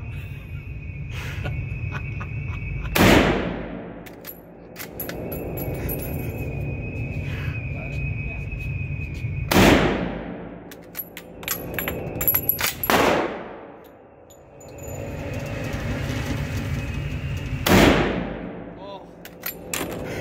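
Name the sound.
Kar98k rifle gunshots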